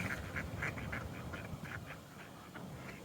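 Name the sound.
ducks quacking near snowy Dartmouth walkway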